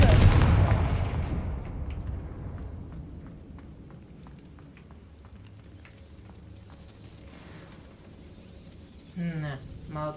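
A Confringo blasting spell in the Hogwarts Legacy video game hits with a loud booming burst at the start, then rumbles and crackles as it fades, followed by quieter game effects and a short rise near the end.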